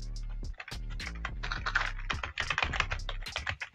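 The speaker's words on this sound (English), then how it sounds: "type your company name" Rapid keystrokes on a computer keyboard as a company name is typed, a steady run of close, crisp clicks over a faint tonal background.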